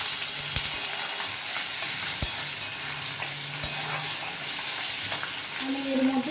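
Potatoes are stirred in a sizzling wok, with a spatula knocking and scraping against the pan every second or so over constant frying hiss.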